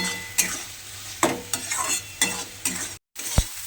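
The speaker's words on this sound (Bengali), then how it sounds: "ডিমটা এর সঙ্গে খুব ভালোভাবে মিশিয়ে ভালোভাবে ভাজা করে নিতে হবে।" A spatula scrapes and stirs eggs in a sizzling pan in repeated quick strokes, with a brief pause and a sharp clack near the end.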